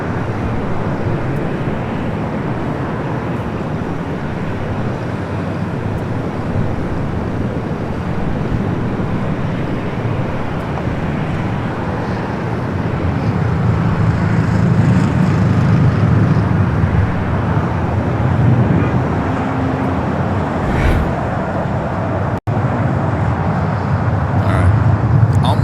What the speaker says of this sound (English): Flight 2479 heading to Lima, Peru in the 767 at 300ER, rolling down to 24 left.